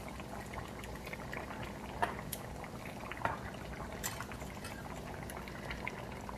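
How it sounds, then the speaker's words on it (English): Coconut milk poured into a simmering chicken curry stew with carrots and onions, a steady low bubbling and liquid wash with a few brief louder splashes and drips, fairly close and continuous, with no voices. "I'm also adding like about 3 tablespoons of coconut milk"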